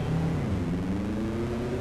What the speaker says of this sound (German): Das ist sehr laut, wenn ich mit dieser Karre fahre.